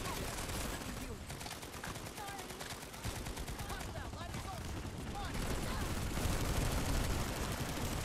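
Burst-fire weapons crackle in the Planetside 2 shooter, repeated quick volleys that are fairly faint and continuous through the stretch, with speech mixed in.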